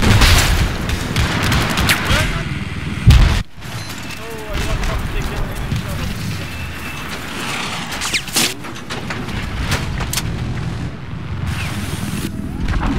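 Tanks firing and explosions in the video game Battlefield 4, a dense run of booms and gunfire rumbling over roughly thirteen seconds, with a brief sharp blast and gap near the middle; a player talks excitedly throughout.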